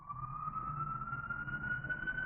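An ambulance siren sounds faintly from a distance, a single steady wailing tone that rises slowly in pitch as it passes, over low traffic rumble.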